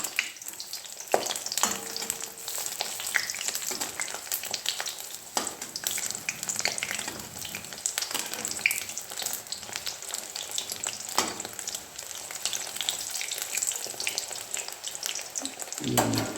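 Fish fritters (macher bora) fry in hot oil in a village kitchen, a continuous close sizzle with occasional clicks and stirring taps throughout, no talking.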